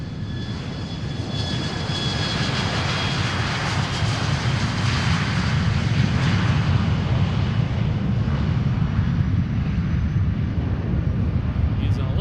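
A jet aircraft lands at Boeing Field with a steady, loud, broad roar of engines that holds throughout and swells slightly toward the middle.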